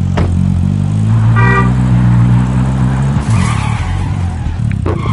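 A car driven in a first-person shooter video game: loud, steady engine drone with tonal harmonics, a brief tire skid or horn-like blip early on, continuing alone without talk.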